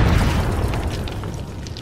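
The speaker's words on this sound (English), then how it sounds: "Shoot your rocket outside this door" A loud, booming rocket-launcher blast from a first-person multiplayer shooter game bursts at the start and rumbles off into a fading decay, with no speech over it.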